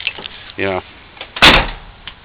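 A door is shut with a short, loud thump after a brief creak of the hinge. The sound comes close by in a quiet space.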